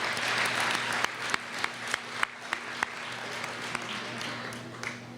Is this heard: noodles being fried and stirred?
no